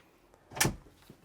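A single cabinet door in an Airstream Trade Wind 25FB Twin travel trailer swings shut with one short, close knock, set against a quiet interior.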